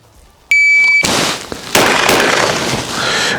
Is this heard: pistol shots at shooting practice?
yes